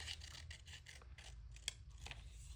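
Scissors snip out a paper journal topper in short, soft rasping cuts close by, with one sharper click partway through; no one talks.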